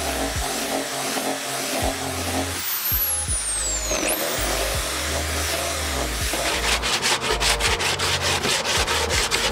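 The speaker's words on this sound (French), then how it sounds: "Et puis, je ponce les arêtes." Wooden board edges being sanded by hand for a furniture build: steady close rasping and rubbing strokes throughout, ending in a fast run of sharp repeated scratches.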